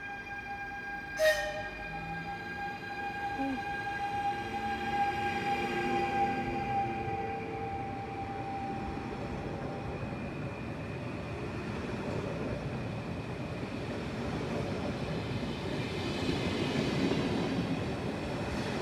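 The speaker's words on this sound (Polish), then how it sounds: "został odprawiony skład Intercity Skarbek do Raciborza Intercity 5422" An Intercity train (Skarbek, bound for Racibórz) departs Gliwice station with a brief horn blast near the start, then a steady rumble of rolling wagons and wheel noise for the rest of the clip.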